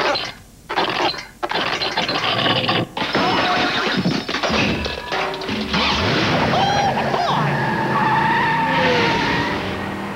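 Tire squeals and screeching skids from a Game Boy Color racing game, loud and bright with mechanical clatter and chiptune-like tones, several skids in quick succession with no talk.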